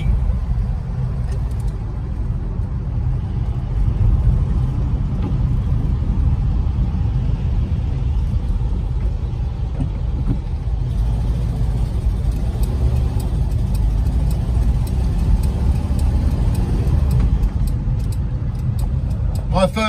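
A 1970s Volkswagen campervan drives through a series of roundabouts, its engine giving a steady, loud low rumble throughout with road noise and no clear revving peaks.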